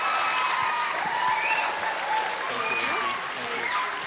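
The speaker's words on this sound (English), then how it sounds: "I'd like to have a big round of applause for her as well" Steady audience applause at an elementary school spring concert, a dense, continuous wash of clapping filling the room at fairly loud level, with faint voices mixed in underneath.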